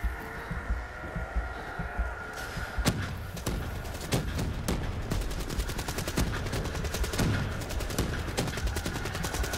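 Ray gun firing in Call of Duty Black Ops III, a long stretch of rapid, evenly spaced shots over a constant electronic hum and busy game noise.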